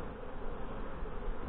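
A soft, steady buzz of honey bees fills the air at a fireweed apiary as honey is collected, faint and continuous with no talk.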